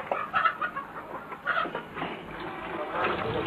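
Chickens clucking inside a three-room family home that serves as a small poultry business, where the birds are slaughtered and dressed; scattered soft clucks and fowl calls come and go at moderate volume against a busy indoor background.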